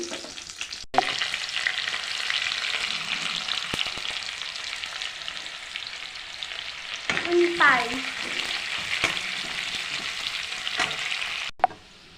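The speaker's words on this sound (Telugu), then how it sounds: "తాలింపు ఫ్రై అయిపోయిందండి" Tempering spices, dried red chillies and small onions sizzle and crackle steadily in hot oil, a continuous close hiss with a brief squeaky sound partway through.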